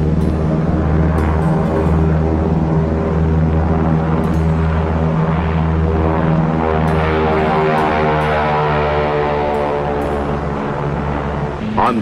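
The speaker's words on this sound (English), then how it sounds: "Navy F-6F mother control planes are catapulted from the carrier's flight deck." A loud, steady droning rumble of Navy F6F Hellcat propeller engines on the carrier USS Shangri-La at sea, thick low harmonics holding constant throughout.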